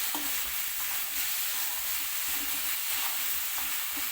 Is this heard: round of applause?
no